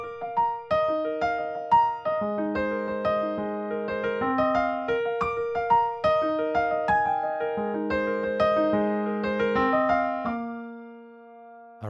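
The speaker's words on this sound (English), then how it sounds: "in this first video, which sounds like this" Solo piano plays the intro of a song, with a bright repeating melody over steady chords at an even moderate tempo, close and clear, ending with a held note that fades out.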